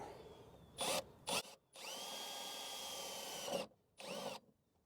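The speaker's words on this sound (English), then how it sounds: "take our drill with our 5/32 bit, and then I'll make the hole" A power drill with a 5/32-inch bit whirs in short bursts, then runs steadily for a couple of seconds as it bores a hole in a Toyota 4Runner during a rock light install, ending with another brief burst.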